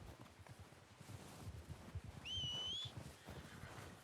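In Red Dead Redemption 2, a horse whinnies once in a high, wavering call over soft rhythmic hoofbeats and faint background noise.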